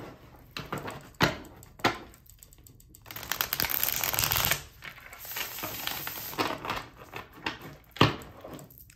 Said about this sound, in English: while I shuffle this one more time